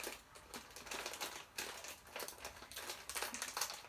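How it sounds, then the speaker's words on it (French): A packet of mulberry chips is torn open and handled, giving bursts of close crinkly plastic rustling and crackling that rise and fall over several seconds, with no voices. "je vais ouvrir et je vais goûter pour vous montrer un peu l'aspect de ces chips"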